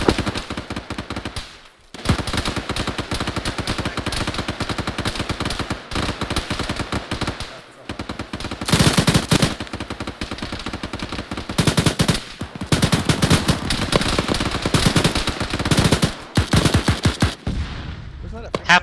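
Loud, sustained machine-gun fire in a video game keeps up in long rapid bursts with only brief pauses, dense and close throughout the battle.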